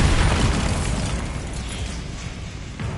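A Bombarda explosion spell from the Hogwarts Legacy video game booms with a heavy, rumbling blast that fades slowly over a few seconds.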